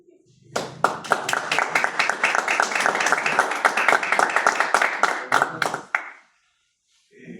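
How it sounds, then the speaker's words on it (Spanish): An audience applauds at a presentation of education research in Quetzaltenango, with many hands clapping together in a close, fairly loud burst that starts abruptly, holds for about five seconds, then stops and leaves silence. "Nos entrega con dicho aplauso al ingeniero por haber participado con nosotros en este estudio."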